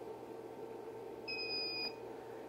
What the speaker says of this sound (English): press the on test button and hold it for several seconds until you hear a beep